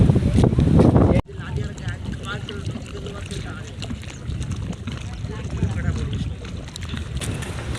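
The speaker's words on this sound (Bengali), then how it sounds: "হাওয়া হচ্ছে দেখতে পাচ্ছ শাঁসা করে আওয়াজ হচ্ছে চারিদিকে" Strong wind buffets a small boat on a river in bad weather, a continuous rough roar and microphone rumble after a loud opening burst, with someone talking over it.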